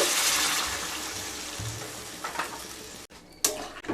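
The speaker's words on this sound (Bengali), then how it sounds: "মশলাগুলো যখন খুব ভালোভাবে কষানো হয়ে যাবে তখন পরিমাণ মতো জল দিয়ে দেব" Water is poured into a pan of cauliflower and egg curry with cooked-down spices, giving a loud hissing splash that fades into a softer bubbling simmer, with a couple of brief clatters near the end.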